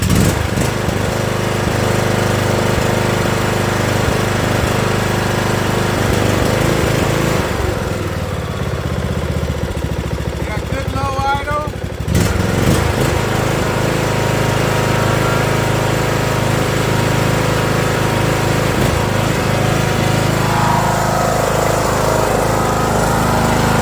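A riding lawn mower engine runs loudly and continuously close by, with a brief dip and change in tone midway before the steady roar resumes.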